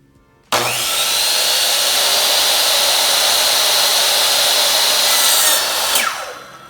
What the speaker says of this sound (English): So as you can see, cut it to 130 millimeters, it fits in there snugly